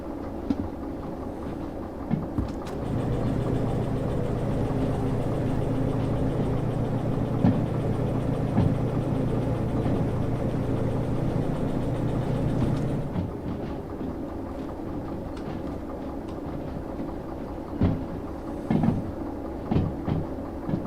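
A diesel locomotive engine running in the train game Derail Valley, a loud steady drone with a sustained low hum, then shifting to rougher idling with a few clanks toward the end.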